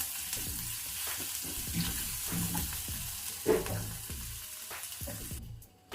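Ginger garlic paste and pepper-clove powder fry in a pan for gobi matar masala while being stirred, with steady sizzling broken by a regular series of spoon scrapes and one sharper clack, close up, until it cuts off at the end.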